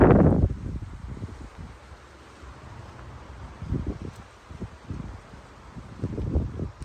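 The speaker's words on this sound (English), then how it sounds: "look how windy it is." Wind buffets the microphone in low rumbling gusts beside a vehicle, strongest at the start and again near the end, with no voices.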